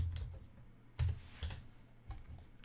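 A password being typed on a computer keyboard, with a few separate close key clicks at an uneven pace against a quiet background.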